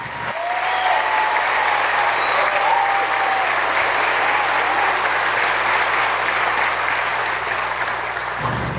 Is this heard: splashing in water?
no